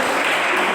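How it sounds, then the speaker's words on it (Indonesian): A church congregation claps for a man named Pak Daniel during a service, a brief, loud, dense burst of many hands applauding together. "Tepuk tangan untuk Pak Daniel."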